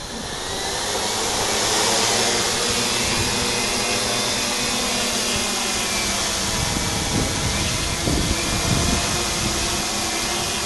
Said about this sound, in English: X8 with 8 motors, with the front left side top motor not working, it's disconnected, and we're going to see how it flies